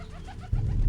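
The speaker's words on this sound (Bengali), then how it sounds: "হঠাৎ করেই কোত্থেকে যেন এক ঝাঁক পায়রা এসে ঝাঁপ দিল গর্তের ভেতরে।" A flock of pigeons as a story sound effect, with soft cooing followed by a sudden low rush of wings flapping close by, brief and loud.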